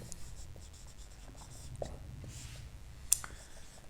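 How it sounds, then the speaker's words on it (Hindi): Pen writing out a mathematical proof on paper or a board during a lecture on continuous functions, a steady soft scratching with small clicks and strokes, close and continuous with faint breathy background. "मैं प्रूफ लिखता हूं कुछ लाइन।"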